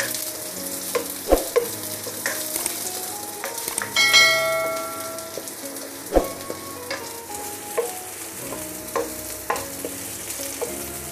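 Sliced onion sizzles and fries steadily in a pan, close and continuous, with a utensil stirring and occasional sharp metallic clanks and ringing taps against the pan.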